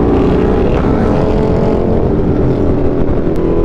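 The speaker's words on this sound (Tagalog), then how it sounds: "Ang ingay na ng motor namin." Steady loud roar of a Triumph Speed Triple 1200 motorcycle engine while riding, with continuous engine drone and wind rush and no pauses.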